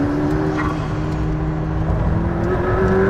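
A McLaren P1 accelerates hard along a Welsh mountain road, heard from inside as a loud, steady engine roar with a rising whine and rumble and no speech.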